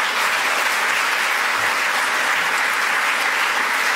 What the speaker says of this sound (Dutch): Dames en heren, warm applaus.